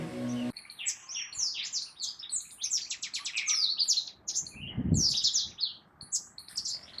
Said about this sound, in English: Indian robin, sparrow, and many other birds start their day with their dawn chorus